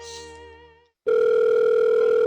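A telephone dial tone sounds while a call is being placed. It follows a short fading electronic chime, then a brief silence, and continues as a loud, steady hum to the end.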